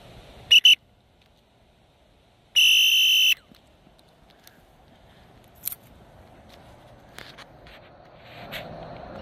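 Two sharp whistle blasts at athletics training: a short double toot near the start, then a longer sustained blast about two seconds later, loud against quiet outdoor background with faint distant sounds.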